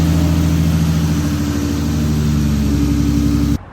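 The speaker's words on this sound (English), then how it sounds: "I missed the sound of this loud and obnoxious car" A loud turbocharged BMW E34 with an M50 engine idles with a rough, throbbing low rumble, steady throughout, then cuts off abruptly at the end.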